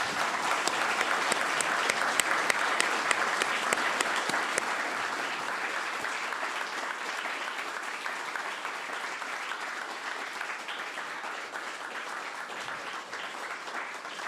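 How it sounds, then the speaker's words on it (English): Long sustained applause for panelists at a discussion on progressive journalism, a full room of hands clapping steadily and evenly, a little stronger and crisper at first, then easing slightly but continuing without talk. "Long round of applause."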